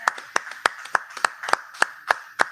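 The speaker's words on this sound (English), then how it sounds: "Let's have a round of applause for Justin over here." Sparse clapping at a casual cigar talk gathering, a few pairs of hands striking sharp, distinct claps in an uneven rhythm, close by and with quiet gaps between.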